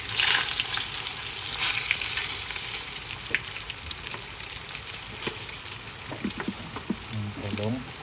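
Ingredients for Filipino kare-kare are sautéed in a pan, with a loud, dense sizzle that eases slightly over time, scattered stirring clicks, and a brief voice near the end.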